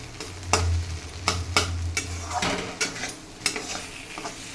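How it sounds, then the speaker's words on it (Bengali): Taro leaves (kochu shak) fry in a pan, a low steady sizzle broken by sharp scrapes and clinks of a utensil stirring against metal, near and fairly loud. "খুব অল্প আছে কচুর শাকটাকে ভাজতে হবে"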